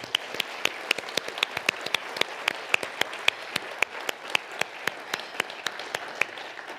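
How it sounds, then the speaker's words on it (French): A sparse audience claps at an awards ceremony, a thin run of distinct, sharp handclaps in a quick, fairly regular rhythm rather than a dense roar. "On peut les applaudir."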